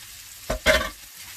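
Rice that was boiled beforehand is stirred as it fries in sesame oil in a pan, giving two quick scraping sizzles, the second louder and longer, close by with no talk.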